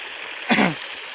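Irrigation water flowing out into a farm field, a brief near splash and gush that swells for about a quarter second over a steady hiss of background noise.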